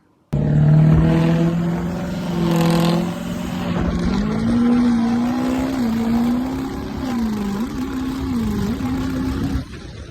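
A truck's engine drones from inside the cab as it drives, with a loud, steady hum whose pitch rises and dips with the throttle for about nine seconds before cutting off.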